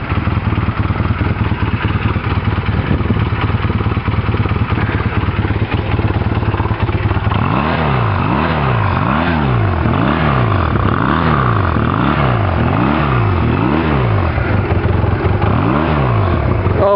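A 1985 Honda Rebel 250 motorcycle engine with a freshly overhauled carburetor runs steadily close by, then settles into a rhythmic, pulsing idle with a loping, wavering beat.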